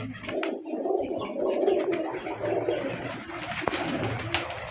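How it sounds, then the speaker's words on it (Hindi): Pigeons coo softly and repeatedly close by, a steady murmuring with a few scattered chirps. "ये नीचे भी फिर रहे हैं कुछ कबूतर।"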